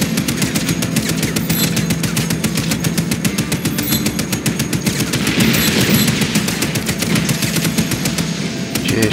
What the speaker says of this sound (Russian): Всё, взорву нафиг.